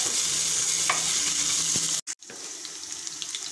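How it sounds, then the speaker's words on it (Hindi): Ginger garlic paste with cumin fries in a pan with a bright, continuous sizzle, close and fairly quiet, broken by a brief dropout and a few light stirring taps. "1 चम्मच अदरक लहसुन का पेस्ट चला गया इसमें। अब इसको मैं इसमें फ्राई कर लूँगी।"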